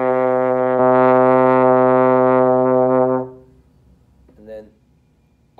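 A beginner's trombone holds a low C with the slide in sixth position, nearly all the way out, as one steady, loud sustained tone for about three seconds before cutting off, followed by a brief faint sound.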